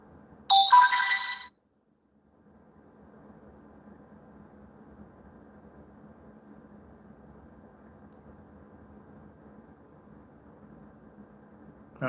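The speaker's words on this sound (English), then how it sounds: "next time I'm going to mute the notifications" A phone notification tone sounds once at the start, a short bright burst lasting about a second, followed by a quiet low hum for the rest.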